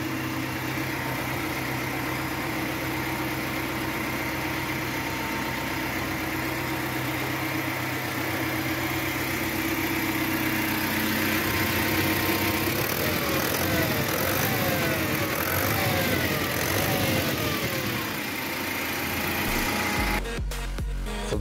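An MXM 440 tractor engine idles with a steady low hum, the sound fairly constant and close, with some rattling vibration in the later part.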